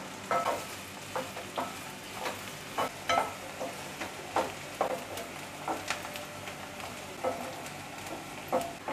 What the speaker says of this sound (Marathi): मी कांदा आहे ना तो 2 मिनिटं परतून घेतलेला आहे